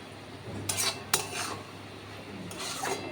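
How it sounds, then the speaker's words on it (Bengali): A knife works through a firm ash gourd, with a few crisp cutting and scraping strokes against a board amid faint kitchen clatter. "কী করছি, চাল কুমড়ো কাটছি।"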